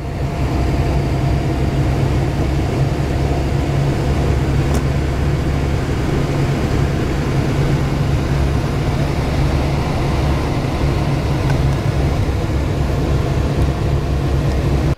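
A car engine idles close by, a loud, even low rumble that holds steady throughout with no talking.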